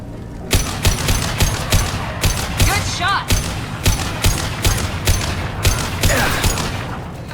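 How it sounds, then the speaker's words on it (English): Gunfire in the video game Mass Effect, with Blue Suns mercenaries and Vorcha shooting: a dense, rapid run of loud sharp shots in quick bursts, close and continuous throughout, with a few mechanical whines between volleys. "The Blue Suns and Vorcha are shooting anything that moves."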